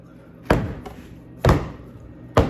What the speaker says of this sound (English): I'll bang it up in just a second to knock the air bubbles out